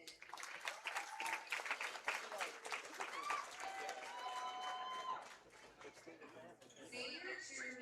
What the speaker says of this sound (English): Let's give a round of applause for senior cheerleader Marilyn Lumpton.